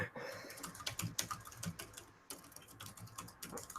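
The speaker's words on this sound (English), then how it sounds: "every time I hear your keyboard" Quiet, rapid clicking of keys on a computer keyboard, uneven bursts of tapping with a brief pause in the middle, no voices.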